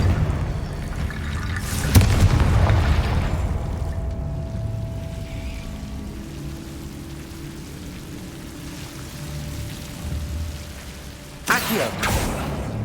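A Confringo fire-blast spell cast in Hogwarts Legacy gameplay sounds as a loud, sharp burst near the two-second mark, a roaring wash that fades out, then a second bright crack near the end. No one speaks.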